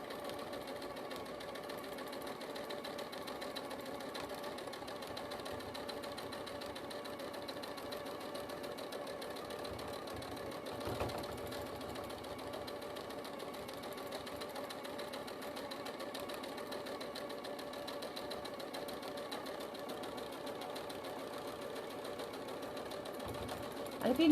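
A domestic sewing machine runs steadily for a long stretch, its motor humming and needle chattering at a constant pace while it stitches back over the same line of trapunto quilting, with a brief bump near the middle and a louder knock at the end.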